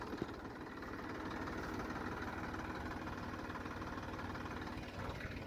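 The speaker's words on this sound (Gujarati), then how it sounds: "ટ્રેક્ટર ચાલુ છે." A tractor engine idles and runs at a farm field in the evening, a low steady chugging rumble, continuous and moderately distant, with no talking.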